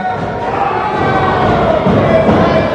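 A wrestling event crowd cheers and shouts for a wrestler, a dense, loud, continuous roar of many voices that builds slightly toward the end.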